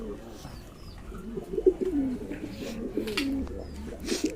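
Pink and check satinette pigeons cooing at close range in a loft, soft repeated low coos with a few chirps around them and steady background murmur.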